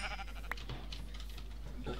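A sheep in the video game Minecraft gives a short, faint bleat over a steady low background hum, with no voices.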